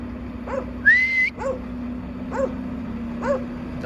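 Dogs give several short yips and barks at a steady pace, with one drawn-out whine near the start, over a constant low mechanical hum.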